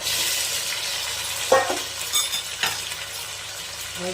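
Biryani masala sizzles steadily in a pan for mutton biryani as tomatoes go in, with a couple of sharp splashes and stirring scrapes at about 1.5 and 2.6 seconds over continuous frying.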